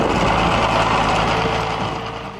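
An International Harvester 656 Diesel tractor engine runs with a steady, broad rumbling drone, loud and close, that fades slightly toward the end, with no talking.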